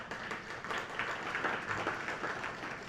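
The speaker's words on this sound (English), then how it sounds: "Big round of applause." An audience at a board of education meeting claps steadily for about three seconds. The round of applause is moderately loud and even, with no voices heard over it.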